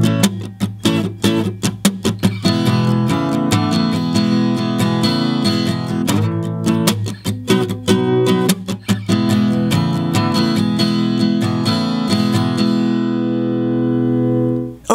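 Acoustic guitar strumming the verse of a song at a slow tempo, steady percussive strums over a simple three-chord progression, close and full, ending on a ringing chord, with no voices.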